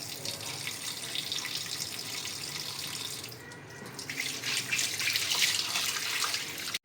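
Tap water runs steadily into a sink throughout as raw chicken is washed, briefly dipping, then flowing stronger with splashing near the end.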